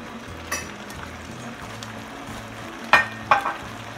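Pancit noodles tossed with teriyaki in a hot pan give off a low, steady sizzle, with soft scraping stirs and a few sharp utensil clicks against the pan.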